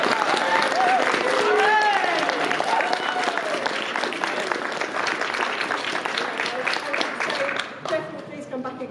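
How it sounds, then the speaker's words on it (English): Audience at a poetry event at a National Gallery late evening clapping continuously for several seconds, a dense steady applause with a few scattered cheers, thinning slightly toward the end. "And finally, a round of applause."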